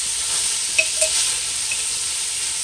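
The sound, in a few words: carrots sautéing in coconut oil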